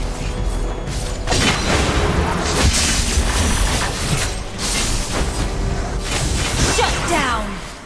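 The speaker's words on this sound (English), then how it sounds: "Destroyed a turret!" A turret being destroyed in the Mobile Legends video game, with loud booming explosion and crash effects under an announcer voice and busy game sounds.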